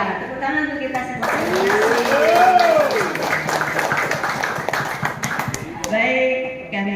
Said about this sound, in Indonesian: Iya, tepuk tangan untuk kita semua.